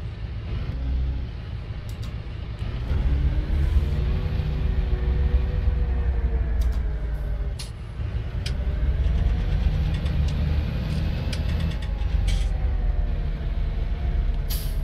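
A big truck engine rumbles steadily in Farming Simulator, deep and continuous with a shifting idle tone and occasional hiss and clank, with no talking over it.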